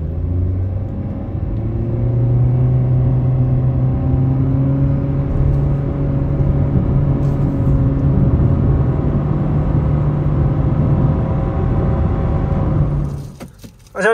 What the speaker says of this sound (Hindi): अभी आपको हमने इसका 0-100 भी ड्राइव करके दिखाते हैं कि इसकी एक्सेलरेशन वगैरह कैसी है